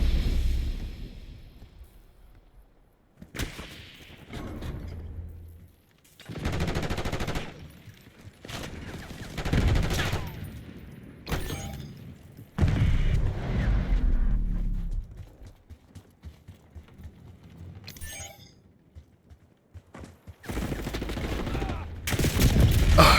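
Shotgun fire in the Black Ops 6 shooter game: a series of loud, heavy blasts spaced several seconds apart, each with a booming low-end punch, mixed with other in-game gunfire and action noise.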